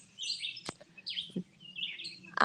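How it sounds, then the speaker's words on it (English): Birds singing outdoors at a rural tiny-house building site, several short chirps and trilling phrases at moderate distance over quiet background, with a couple of sharp knocks. "love the bird song"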